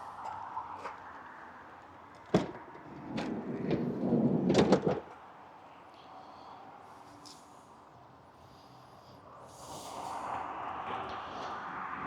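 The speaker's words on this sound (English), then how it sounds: "sliding side door child lock setting" The sliding side door of a 2017-onward Toyota Proace II van rolls along its track and shuts with a sharp thud, followed by a quiet stretch and faint later rumbling.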